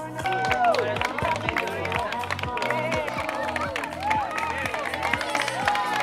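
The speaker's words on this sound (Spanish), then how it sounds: "El aplauso." Spectators clap and cheer for runners crossing the finish line at the San Silvestre race in Puerto del Carmen, a steady crowd applause beneath busy chatter and a commentator's voice throughout.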